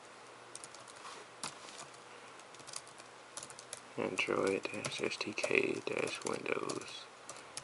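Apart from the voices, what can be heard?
typing on a computer keyboard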